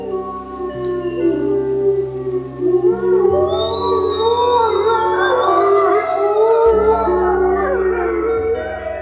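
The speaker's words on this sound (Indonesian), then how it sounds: "lolongan serigala juga berperan dalam mempertahankan keharmonisan kawanan, mengkoordinasi aktivitas berburu, atau memanggil anggota kawanan yang terpisah" Several wolves howl together in overlapping long, rising and falling wails that weave and harmonize, with a lower sustained tone beneath changing in steps, continuous and fairly close.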